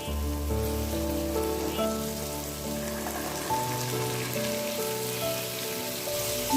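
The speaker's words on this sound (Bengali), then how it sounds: "এখন দিয়ে দিব সিদ্ধ করা ছোলা।" Boiled chickpeas dropped into hot spice masala set off a steady, dense sizzle that carries on evenly throughout, with a low stove hum beneath and no talking.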